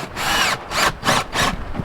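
A handheld power drill countersinking bolt holes for a gold-recovery sluice whirs in four close, loud bursts, each spin-up followed by a brief easing off.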